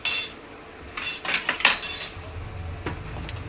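A spoon scrapes and clinks against a bowl while ingredients for steamed bread are stirred, a few sharp close metallic taps and rubs in quick irregular bursts.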